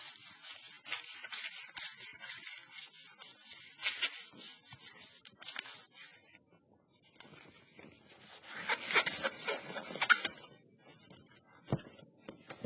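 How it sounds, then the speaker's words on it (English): Fine sandpaper rubbed over a milk paint distressed finish to burnish it, giving close, soft, rhythmic scratchy strokes with a brief pause midway. "Just burnish it a little bit around the end."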